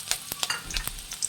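Garlic and green chillies frying in a pan for restaurant-style Chicken 65, with faint oil crackle and sharp intermittent clinks of a spoon stirring, close and alone.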